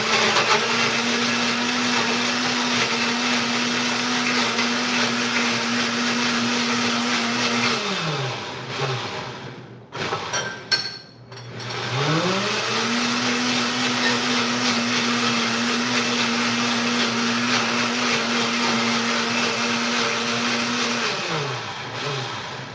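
A loud blender runs with a steady droning whir, cuts out briefly, then restarts and runs again before winding down near the end; no one speaks over it.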